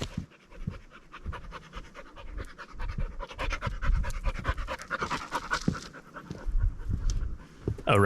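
A dog pants steadily and close by on a mountain trail hike in Corsica, fast rhythmic breaths running continuously over the whole stretch, with faint scuffs and outdoor noise behind it.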